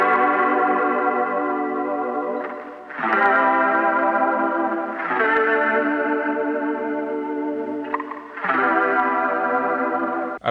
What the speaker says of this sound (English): we're going to start out with this really cool chorusy guitar riff